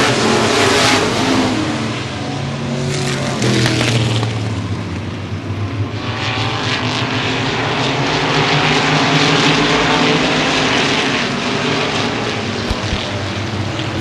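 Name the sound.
modified race cars racing at speedway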